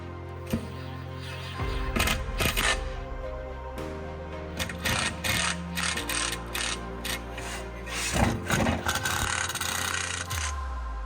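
An impact gun snugs down clutch torque screws during an RVS clutch kit install on a Polaris Sportsman or Scrambler 850/1000 ATV, with short ratcheting, hammering bursts and mechanical clicks amid workshop noise.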